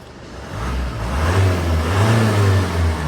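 A used van's engine revs steadily with a smooth, continuous mid-range drone that rises and holds loud and close for about three seconds, with no voices over it.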